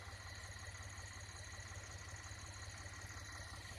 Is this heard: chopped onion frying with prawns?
no